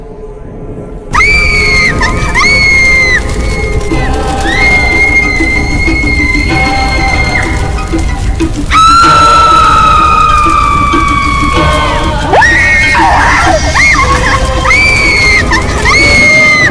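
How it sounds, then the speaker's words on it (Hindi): A loud, drawn-out woman's scream from a horror story set in a cremation ground at night. The shrill cries rise and waver over a dense, eerie music bed and continue with no pause throughout. "अब बस स्वाति की चीखें ही गूंज रही थी पूरे शमशान में"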